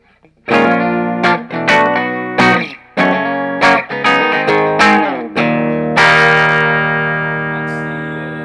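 Fender Contemporary Telecaster electric guitar in a clean tone without coil split: a run of plucked chords and notes, then a final chord left ringing and slowly fading.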